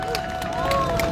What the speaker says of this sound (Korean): 박수로 맞아주시길 바랍니다.